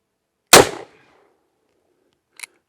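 A single loud, close gunshot from a Cimarron .44 Magnum revolver, followed by a long fading echo and a faint distant crack about two seconds later.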